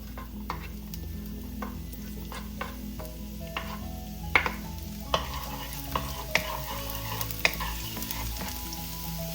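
Garlic frying in oil in a saucepan over medium-high heat, a steady soft sizzle with scattered clicks and taps of a utensil stirring, close and continuous throughout.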